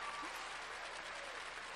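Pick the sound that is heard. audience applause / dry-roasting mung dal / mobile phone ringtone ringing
audience applause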